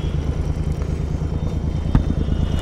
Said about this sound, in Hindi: तो भाई एक बार रोक के यहाँ पे मैं आपको आवाज़ सुना देता हूँ बाइक की